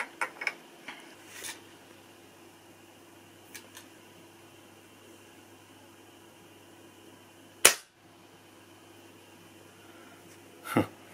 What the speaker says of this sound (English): So now we'll do it with the silencer in this configuration.